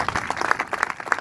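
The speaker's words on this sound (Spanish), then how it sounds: "Denle un aplauso fuerte al Señor, hermano." A church congregation claps loudly in response to a call to applaud the Lord, with dense, uneven handclaps close by and a few voices mixed in over the clapping.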